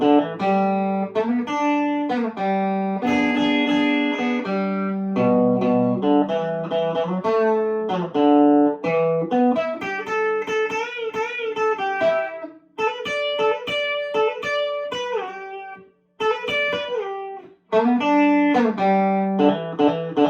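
Electric guitar playing the solo from a song at a slow tempo: a run of clear, separate notes and short chordal stabs with brief gaps, played alone and close with no talking.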